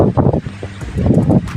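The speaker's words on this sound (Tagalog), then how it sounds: "sobrang lakas ng hanging amihan" Strong amihan monsoon wind blowing by the sea, a loud, continuous rushing buffet with gusting surges across the whole stretch, close to the microphone and with no voices.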